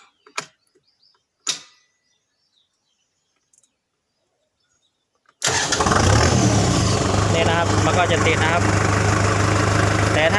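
A Kubota M6040 tractor engine cranks and catches, then settles into a loud, steady diesel idle close by, following a few faint clicks and near-silence.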